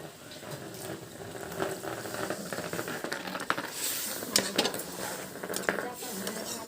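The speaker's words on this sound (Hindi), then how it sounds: "उसके बाद हम डाल देबो थोड़ा से पानी।" Water goes into a pan of frying fish masala, bringing soft bubbling and sizzling with clinks of utensils against cookware, quiet and close.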